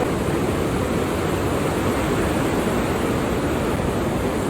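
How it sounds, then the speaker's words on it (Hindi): Fast-flowing river water rushing near a gated channel at a Sibi tourist spot, a loud, dense, continuous roar of broadband water noise, steady and unbroken with no voices. "पानी जो है काफी तेज है"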